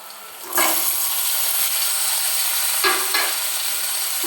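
Chopped onion frying in a pan with jackfruit seeds, a steady broadband sizzle that surges louder as ingredients are stirred or moved around, with no talking.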